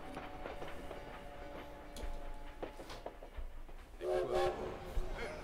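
Ambience of a Paris train station in the video game Valiant Hearts: a low rumbling bed with a tonal train horn or whistle sounding near the end, plus faint background voices.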